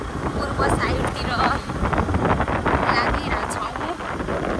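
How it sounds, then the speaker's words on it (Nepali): Wind blows across a road off a main road near Godawari, buffeting the microphone in a continuous, rough roar with gusty swells, and voices are mixed in. "हावा पनि चलिरहेछ।"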